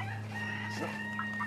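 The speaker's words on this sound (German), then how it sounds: "Züchter Walter empfiehlt zwei Zwerg-Brahmas" Dwarf Brahma chickens clucking at close range, several soft overlapping calls with a steady low hum of the coop or garden setting underneath.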